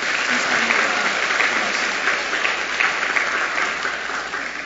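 Sustained applause from a large church congregation at a Sunday morning service, steady and full throughout with no pauses.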